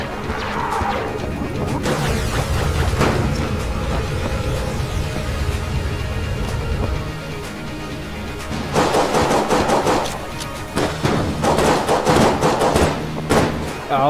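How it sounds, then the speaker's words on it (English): NES light gun firing in Enter the Gungeon: dense bursts of sharp, loud zapping shots and crashing impacts, close and rapid, with a brief lull midway before the firing picks up again. "I love this fucking NES light gun."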